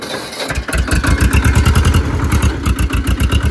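An old-model 724F tractor engine runs loudly and steadily, its rapid exhaust pulses thumping through the silencer after a brief quiet start, close by and alone without talk.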